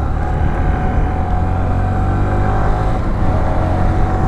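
A Honda CB125F motorcycle runs at full throttle, its small engine giving a loud, continuous, even drone with no pauses and no voices.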